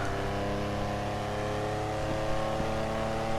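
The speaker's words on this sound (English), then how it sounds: "I just love the sound the car makes though" A classic Mercedes sports car, the Benefactor Stirling GT in GTA Online, drones at high revs, a loud, sustained mechanical whine that holds steady throughout.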